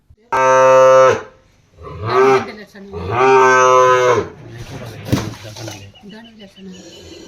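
A young calf moos loudly several times in drawn-out bleating calls, close by, with short pauses and some background noise between them.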